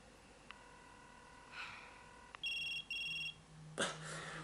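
A telephone rings in a TV drama, Pretty Little Liars, heard as electronic tones and a two-burst ring over a quiet noisy background, ending with a sudden sharp breathy sound.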